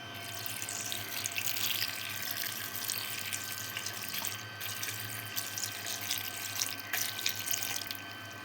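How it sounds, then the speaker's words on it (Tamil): Cold tap water runs steadily into a sink, rinsing freshly boiled pasta in a colander, a continuous close splashing hiss with no pauses. "இப்போ பச்சை தண்ணியை ஊற்றி அலசணும்."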